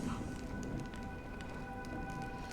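Steady rain falls across a scene in the video game Honkai Star Rail, an even soft hiss with faint drop patter and a few steady background tones, continuous and moderately quiet throughout.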